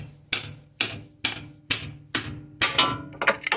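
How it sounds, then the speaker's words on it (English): Seven sharp metallic smacks of a mallet striking a pry bar wedged against a Mercedes GLK 350 4Matic X204 front axle, landing in a steady rhythm and close up, the last few quicker and lighter, with no talk. "place the pry bar in there, sitting up against the edge, and smack it with a mallet"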